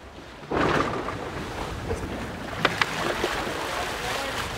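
Racing sailboat at sea during an ocean race, an engine starting with a sudden rise into a steady low rumble mixed with wind and water noise, plus a few sharp knocks.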